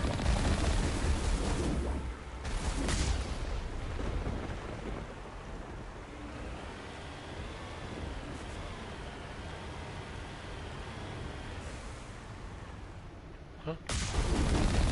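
Loud, sustained rumbling gunfire and blasts from a robot being shot in a Mass Effect–style video game, continuous and dense, with brief breaks.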